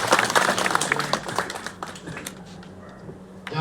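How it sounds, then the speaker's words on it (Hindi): An audience claps at a poetry gathering in a satsang ashram, dense applause that thins out after a couple of seconds into scattered claps, with faint talk underneath. "एक बार ताली बजा दीजिए,"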